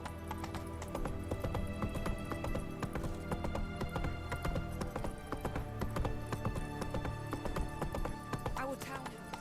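Roach the horse galloping in The Witcher 3: Wild Hunt, a loud, steady clip-clop rhythm with an occasional whinny, layered over game music and ambience.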